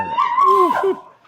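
Dogs whimper and yelp in a short, close, strained burst of rising and falling cries, part of a live recording of a dog walker having the dogs pulled from his hands.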